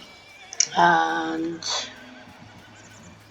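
Farm horses neighing: one loud, close whinny rising and holding before falling away, then a shorter second call, with a brief spoken word just before.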